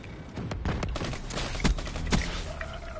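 Video game gunfire rattles in a short burst of rapid shots with a couple of louder cracks near the middle, close and fairly loud for about three seconds.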